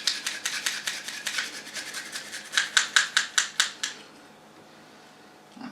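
Garlic cloves rasped on a grater over burger mince, a rapid series of rough, rhythmic scraping strokes that grow louder and more distinct toward the end, then stop, leaving near silence, with no talking.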